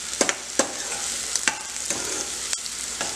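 Finely chopped onions frying until golden brown for hotel-style dal tadka, a continuous close sizzle with sharp, irregular clacks of a ladle stirring the pan, no talking.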